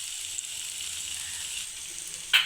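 Okra (bendakaya) frying in a pan, a steady close hiss of sizzling oil that holds evenly throughout, with a brief louder spatter at the very end.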